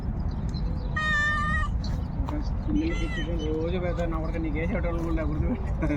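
A cat meows several times close by, with drawn-out, wavering cries spread across a few seconds.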